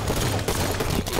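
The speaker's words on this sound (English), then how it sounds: "Sniper rifles on the field." Loud, dense burst of sniper rifle gunfire in the Halo 5 video game, a harsh continuous blast of shots and impact noise filling the whole moment, with no voices.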